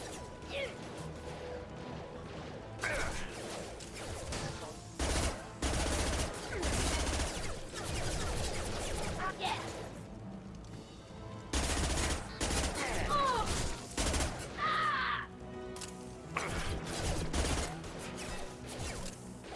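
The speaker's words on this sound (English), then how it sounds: "Keep your head down, Jacob. And try to shoot stuff" Gunfire in the sci-fi shooter game Mass Effect 2: sustained volleys of loud, dense shots and impacts continue almost without a break, mixed with crashes and mechanical effects, while characters speak in between.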